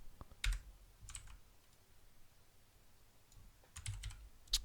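Photoshop keyboard shortcuts are pressed on a computer keyboard in a few quiet, scattered bursts of key clicks, with gaps between them and no talking.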